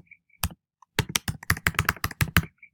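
Fingers type on a computer keyboard in a quiet room: a couple of isolated key presses, then a quick run of about a dozen crisp, close clacks in an uneven rhythm.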